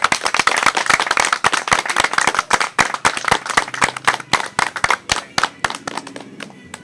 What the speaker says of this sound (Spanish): yo quiero que le demos un fuerte aplauso a nuestro Señor y Salvador Jesucristo